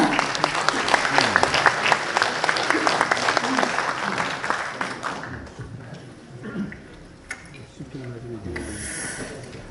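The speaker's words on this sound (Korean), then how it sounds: "큰 박수 부탁드립니다" A symposium audience at a Korean women's conference applauds as a lecturer comes to the podium. Dense, loud clapping fills the first half, then thins out as a voice begins speaking over the last claps.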